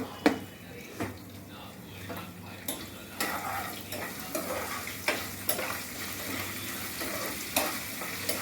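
Chana dal, urad dal, mustard seeds, cumin and broken dried red chillies fry in hot oil in a pan, a low steady sizzle with a spoon scraping and stirring in irregular clacks and taps.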